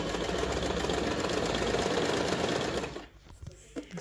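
A Janome RE1712 domestic sewing machine stitches in a steady, loud, rapid mechanical whir for about three seconds, then stops, leaving faint clicks and handling noises.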